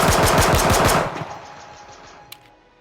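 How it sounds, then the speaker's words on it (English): Rapid burst of hand cannon gunfire in the video game H1Z1, about ten quick loud shots in tight rhythm that stop abruptly into a fading tail, with one faint click after. "this is the hand cannon that has the less recoil."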